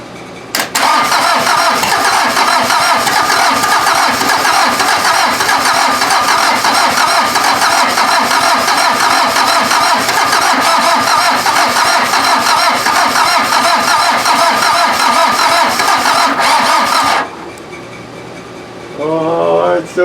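VW diesel engine fitted in an offroad Mazda, corroded and with glow plugs, cranks and catches, running loud and rough up close for most of the span before cutting out abruptly, followed by a brief quieter tail.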